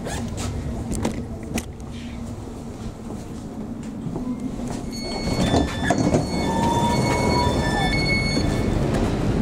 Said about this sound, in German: Eingefahrener Zug auf Gleis 12, S42, Ringbahn über Frankfurter Allee, Gesundbrunnen, Westkreuz